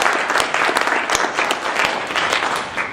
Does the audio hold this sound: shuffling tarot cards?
no